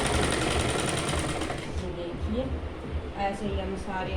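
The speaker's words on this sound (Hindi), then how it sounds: "अभी मैं इसमें सारी में सिलाई लगा लूँगी।" Sewing machine stitching palazzo pants, running fast and loud at first and then easing into a softer rattling hum while someone speaks over it.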